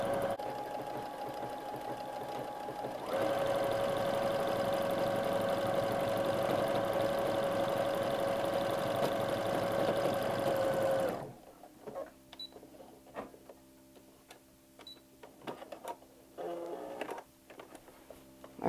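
A sewing machine tacks down elastic on a toddler skirt made from a T-shirt, running in one steady, close whirring burst of about eight seconds, then stopping for soft handling clicks.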